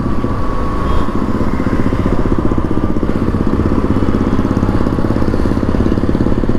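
A second-hand motorbike engine drones loudly and continuously while the bike is ridden, a steady, close mechanical rumble with no pauses or voices.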